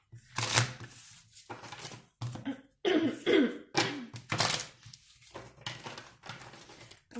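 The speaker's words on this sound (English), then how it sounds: "Let's get 3 shuffles here with the energy oracle deck." Close, crisp shuffling of an oracle card deck in repeated bursts, a rough papery riffle and slap that comes and goes in uneven rhythm.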